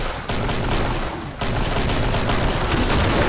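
Machine gun and grenade launcher fire in the video game Killing Floor, a dense, continuous barrage of rapid shots and blasts that fills the whole stretch, loud and up close, with a brief dip early on.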